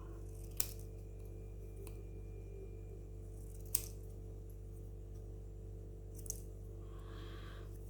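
Scissors snip paper for a Japanese paper doll junk journal card, three sharp separate cuts over a steady low background hum, with no voices.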